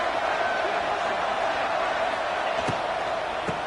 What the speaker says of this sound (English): listen to this crowd noise. This stadium is vibrating